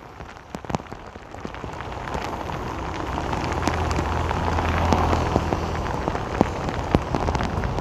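Heavy rain pours down in Saigon beneath an overpass, a dense, steady roar with scattered sharper drops and splashes, swelling slightly in the middle and staying loud throughout.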